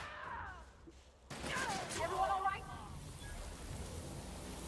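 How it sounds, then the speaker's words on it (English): Gunfire in the video game Shadows of Doubt: a faint, quiet burst of shots crackles in abruptly partway through and trails into a hissy wash, with a voice talking. "Who else is shooting?"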